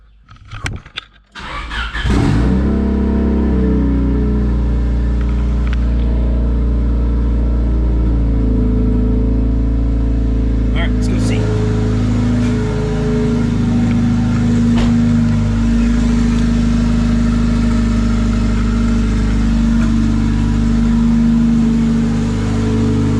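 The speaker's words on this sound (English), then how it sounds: "So, gonna get this thing started." A turbocharged Honda D16Y8 engine cranks, catches and settles into a loud, close, steady idle with a slightly uneven tune. No other sounds compete with it.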